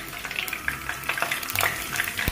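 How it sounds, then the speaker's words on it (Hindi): Cumin seeds dropped into hot oil left in the pan from frying okra, giving a steady crackling sizzle at close range with faint scraping, no voice. "ये जीरा डालूंगी उसी तेल में"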